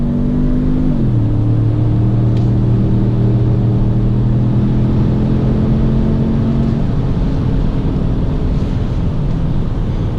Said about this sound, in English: Exhaust sound from any of the Fords except for Mustangs are not very good.